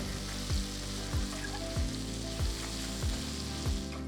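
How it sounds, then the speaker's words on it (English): Garlic, red chilies, shallots and curry leaves fry in a hot oil tempering for Andhra gongura dal, giving a steady close sizzle with soft regular stirring knocks about every half second. "Finally, toss in a few fresh curry leaves and let everything fry until aromatic."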